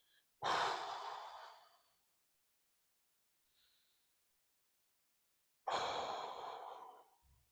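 Breathing while holding a core brace during a no-equipment exercise routine: two long, loud, close-up exhalations spaced several seconds apart, with a faint breath between them and near silence otherwise.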